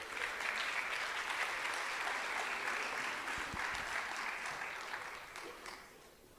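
A seated audience at a digital communication awards ceremony applauds as the jury members are called onto the stage, with dense, sustained clapping that holds steady, then slowly thins and fades toward the end.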